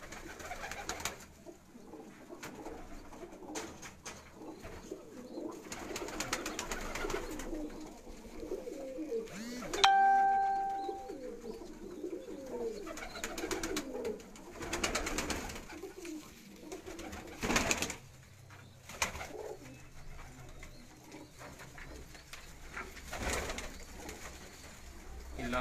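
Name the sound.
pigeons cooing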